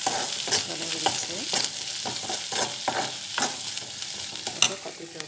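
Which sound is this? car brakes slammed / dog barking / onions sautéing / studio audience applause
onions sautéing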